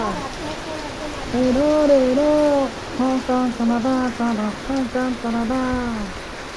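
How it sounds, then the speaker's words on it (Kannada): Heavy first rain of the season falls on a village, a steady broadband wash running under a voice that sings or chants prominently over it, its phrases in short rhythmic bursts. "ಇವತ್ತು ಮಾತ್ರ ಸಿಕ್ಕಾಪಟ್ಟೆ ಮಳೆ ಹಚ್ಚಿಬಿಟ್ಟೆ ಆಯ್ತು ರೀ"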